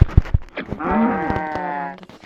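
In a video game, a few sharp thuds lead into a single long, low cow moo that holds steady for about a second before trailing off.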